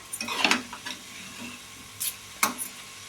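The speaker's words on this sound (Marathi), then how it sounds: "खोबरं घालून थोडं परतून घेऊया." Grated coconut being sautéed with fenugreek leaves in a home kitchen pan, a soft sizzle under scraping stirs and a few light clinks of the spatula against the pan.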